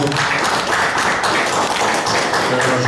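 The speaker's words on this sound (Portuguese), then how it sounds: "Nós queremos agradecer, dá uma salva de palmas aí ao Sr. João" A crowd gives a round of applause for Sr. João at a public municipal gathering: dense, steady clapping close by that lasts the whole moment without a break.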